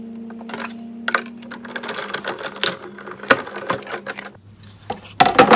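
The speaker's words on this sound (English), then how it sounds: "I'm going to die cut that last tag there." A die cutting machine feeds a paper tag through with a close, uneven run of mechanical rattles, clicks and a low motor hum, no voices.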